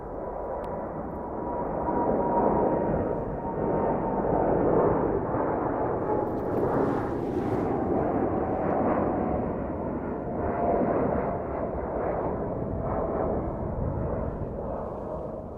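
A Boeing 747 cargo jet at a Chicago airport near sunset, a steady broadband engine roar holding loud and constant throughout, with no voices over it.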